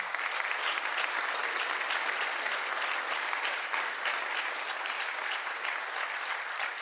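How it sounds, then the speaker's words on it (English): Steady, dense applause from a town meeting crowd honoring the retiring Mr. Giannakakis after about twenty years of service to the town, continuous and fairly loud throughout. "So let's give him a round of applause."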